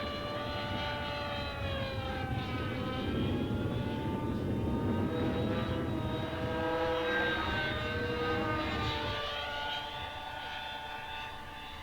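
A radio-controlled helicopter flies nearby, its rotor and motor whine rising and falling in pitch as it passes and maneuvers, loud and continuous with sweeping tonal harmonics.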